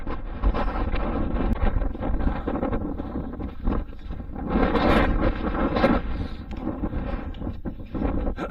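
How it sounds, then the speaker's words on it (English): Strong wind buffets the microphone continuously on an exposed hilltop at Kinder Scout, a loud roaring rumble that swells and gusts harder in places, with no voices. "so windy"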